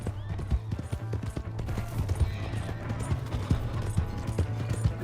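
Horse hooves clip-clop at a gallop in the Red Dead Redemption 2 video game, a steady, fairly loud rhythmic pounding with a low hum underneath and occasional brief voice sounds.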